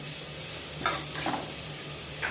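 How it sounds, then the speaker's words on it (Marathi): Chopped green leafy vegetables stir-frying in a little oil for veg fried rice, a soft, continuous sizzle broken by a few brief scraping strokes of the spatula. "हिरव्या पालेभाज्या आपण आता थोड्या तेलामध्ये फ्राय केलेले आहे।"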